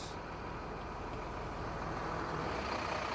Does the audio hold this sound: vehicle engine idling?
yes